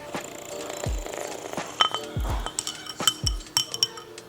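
A teaspoon clinks against a glass of iced espresso made with Nescafe Blonde and half a banana, several bright taps and stirs spread over a few seconds with soft thuds in between, close and fairly quiet.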